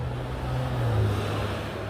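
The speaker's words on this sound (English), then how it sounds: "Car pass." A car passes by outside a camper build, a steady low engine hum and tyre rumble that swells slightly toward the middle and fades a little, moderately distant with no talk.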